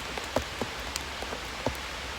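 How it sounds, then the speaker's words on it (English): Rain falls on an umbrella in the woods, sparse and quiet, with a few distinct drops tapping close by over a soft background patter. "Sound of the rain coming down."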